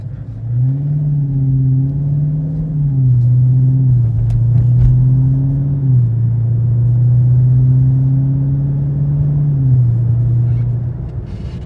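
A 2016 Dodge Charger SRT 392 V8 roars under hard acceleration, its deep engine note climbing then dropping at each gear shift, repeating three times in a loud, close, steady rumble from the cabin.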